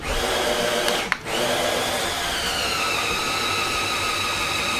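A CADA C61056 heavy RC bulldozer's drive motor whines steadily and loudly close up, with one brief dip in sound before the even hum resumes.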